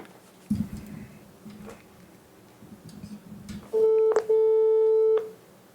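A telephone call tone while dialing someone: quiet room hiss, then a loud, steady electronic tone of about one and a half seconds near the end, broken by a short click.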